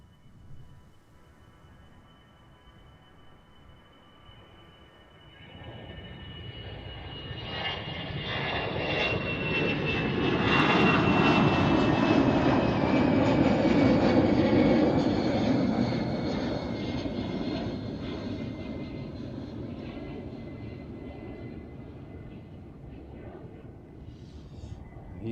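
A Lufthansa airliner taking off at Amsterdam Schiphol Airport, jet engine roar building from a distant whine to a loud broad rumble, then slowly fading as it climbs away.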